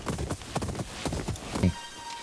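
In the video game Ghost of Yotei, a horse's hooves clip-clop at a steady trot close by. The sound is loud and rhythmic, ends in a heavier stamp, and plays with no talk over it.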